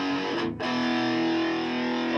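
Boss Katana MK II guitar amplifier on its metal setting, playing a heavily distorted, sustained guitar tone that briefly cuts out and then rings on loud and alone.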